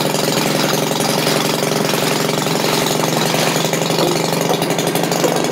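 The gas engine of an old Maytag washing machine runs loud and close, a steady, rapid popping putter at an even idle-like pace throughout, with no voices.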